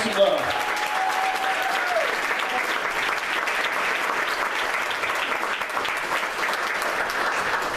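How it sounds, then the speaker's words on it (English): Audience applause at the 2016 Chester City Awards ceremony, a sustained, even round of clapping from a crowd, with a voice speaking briefly at the start over the clapping. "Could you please give a big round of applause for my friend, your friend, Mr. Stefan Roots."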